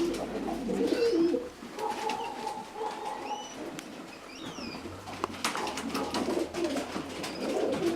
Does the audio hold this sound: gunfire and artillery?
no